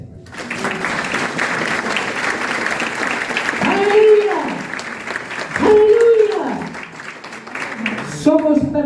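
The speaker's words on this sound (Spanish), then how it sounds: "¿Por qué no le das un aplauso al Señor?" A church congregation applauds at length, steady clapping swelling and easing, with loud singing voices rising over it twice and a voice breaking in at the very end.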